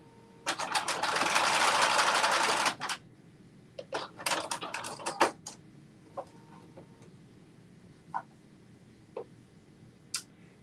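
A sewing machine stitches a Carmen top in one steady burst of about two seconds. Scattered ticks, clicks and handling noises follow in a quiet room.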